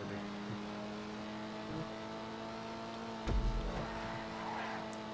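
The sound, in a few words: Dinka Jester RR car engine revving in GTA video game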